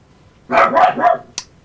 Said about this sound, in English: Did I ever show you guys my dogs?